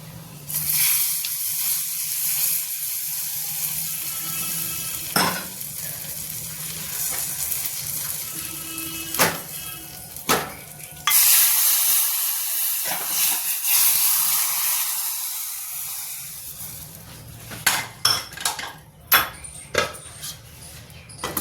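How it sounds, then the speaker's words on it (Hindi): A hot tadka tempering poured over fulkiyan, with a loud hiss and sizzle that gradually dies away, broken by occasional clinks and a few sharp knocks near the end. "अब इस तड़के को अब हम डाल देंगे अपनी इन फुल्कियों पे"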